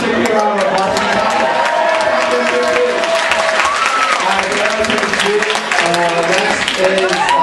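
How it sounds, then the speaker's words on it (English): A crowd at a talent show applauds and cheers for the winner, dense continuous clapping at full volume from start to finish, with voices and musical tones mixed into the roar. "Let's give a big round of applause."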